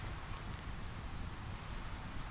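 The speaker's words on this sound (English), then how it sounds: "the rain begins to pelt down around me, drumming rhythmically on the roof" Rain pelts down on a shelter roof beside a campfire near a waterfall in the forest, a steady dense hiss and patter with a low rumble underneath, continuous and fairly quiet throughout.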